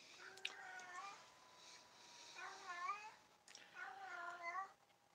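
Sushi, a female cat in heat, lets out three drawn-out, wavering yowls indoors, fairly quiet and separated by short pauses.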